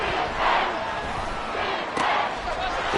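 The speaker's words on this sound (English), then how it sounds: "this crowd doing their best to make a lot of racket" A football stadium crowd in the Madden 24 video game makes a loud, steady roar with swelling cheers, continuous throughout.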